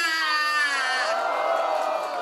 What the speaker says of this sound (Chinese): 第一位少女跳得好的，给他一点掌声加尖叫一下